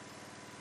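A GM3000 riding mower engine runs steadily with the control lever in neutral, a loud, even mechanical drone with rapid regular firing pulses and no pauses.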